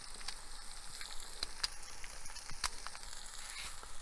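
Tofu pieces fry in a pan with egg cracked over the top, a continuous light sizzle with scattered sharp pops and crackles at moderate volume.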